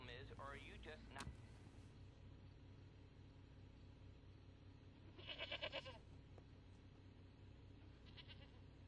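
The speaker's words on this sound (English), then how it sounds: "Was that a goat?" Goat bleating at a distance, a short wavering cry heard twice amid steady low background rumble, fairly faint.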